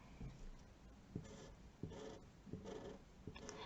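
The fine tip of a Tombow Dual Brush Pen moves across paper in soft, rhythmic scratchy strokes, faint and close, repeating every half second or so over a low background hiss.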